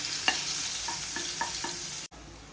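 Crushed garlic hits hot tempering oil with mustard seeds, cumin and asafoetida for a Gujarati ridge gourd curry, giving a soft steady sizzle with a few light stirring clicks, then a brief cut.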